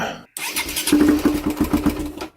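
A KTM four-stroke motorcycle fitted with a two-stroke exhaust fires up after a brief gap and revs in quick, choppy bursts, loud and close, with a raspy two-stroke-like crackle.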